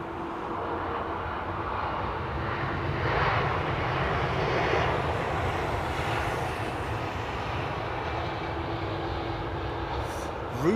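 Airplane engines roar steadily on departure from runway 27R, a loud, sustained broadband rumble that swells and eases slightly over about ten seconds.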